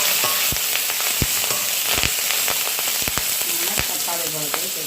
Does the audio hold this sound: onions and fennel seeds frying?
yes